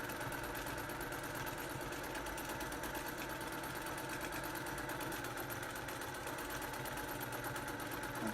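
A sewing machine stitches a quilt in a stippling pattern, with a fast, continuous mechanical whir and a rapid rhythmic clatter that stays steady throughout.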